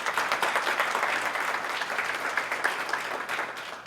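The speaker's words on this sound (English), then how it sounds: "So let's give Justin a round of applause." Sustained, even applause from an audience at a Constitution Day event, steady dense clapping that holds at full strength throughout.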